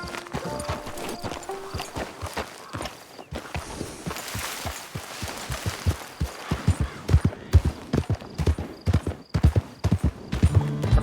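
Horse hooves clip-clop steadily in a cowboy video game, close rhythmic thuds speeding up into a faster trot toward the end.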